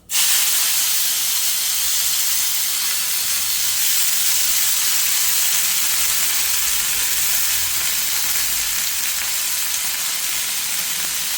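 Shredded potato and gourd peel hiss and sizzle loudly in hot oil in a wok, a dense, steady frying crackle that starts abruptly and holds evenly throughout.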